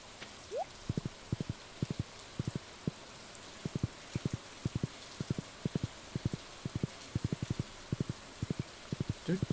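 Rain patters softly and steadily in Stardew Valley during summer, a faint hiss under a regular string of crisp footstep taps.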